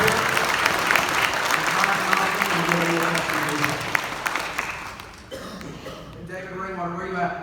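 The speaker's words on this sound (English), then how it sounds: "Let's give him a round of applause." An audience at a youth Sunday church service breaks into dense, sustained clapping that fills the room for about five seconds, then thins out as scattered claps fade beneath people talking.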